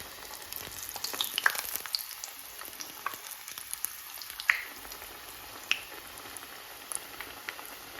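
Vegan sushi rolls with crispy tofu deep frying in hot oil, a soft steady sizzle with scattered faint pops and crackles, close and quiet with no talking.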